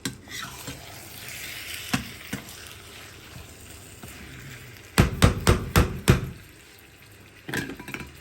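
Onions for Sindhi biryani fry in a pan, with a soft sizzle under a quick run of loud, close spoon knocks and scrapes as they are stirred and turned.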